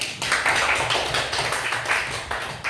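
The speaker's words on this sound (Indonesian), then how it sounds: "Tepuk tangan dulu" Schoolchildren in a classroom clap their hands together in a quick, rhythmic burst that lasts a few seconds, fairly close and alone without speech.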